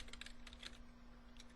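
Soft, rapid keystrokes on a computer keyboard as code is typed, a brief burst of close, quiet clicks over a steady electrical hum, with no voices.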